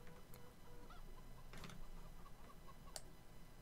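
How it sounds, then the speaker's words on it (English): Farmyard chickens in Farm Sim 17 give a few faint, scattered clucks against a quiet, low background hum. "I can hear chickens."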